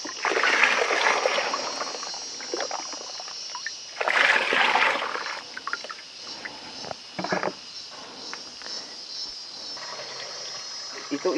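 Water poured for the second time into a cooking pot while distilling arak in East Nusa Tenggara, heard as an uneven splashing, rushing wash that swells and fades in several bursts, with faint voices in the background.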